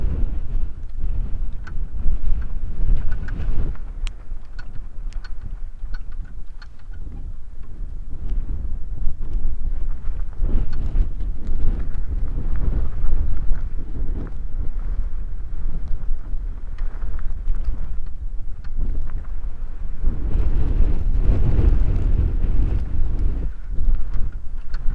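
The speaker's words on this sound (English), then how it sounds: "wind like this is obviously going to kick up a lot of the dust" Strong wind blows across open grassland outdoors, a loud, steady buffeting rumble that swells and eases in gusts, with a stronger surge near the end and no voices.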